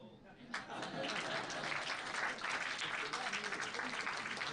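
Dense, steady clapping from an audience at an international management conference swells in after a brief quieter moment and carries on without a break.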